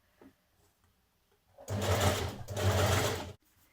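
Sewing machine stitching gathered fabric for a smock dress, a quiet pause followed by a close, rapid whirring burst of about a second, a brief break, then another run of stitching before stopping.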